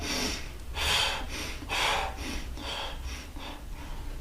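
A person imitates the panting of someone out of breath during walking meditation in zazen, with a run of loud, rhythmic breathy gasps and exhalations close to the microphone and no talking.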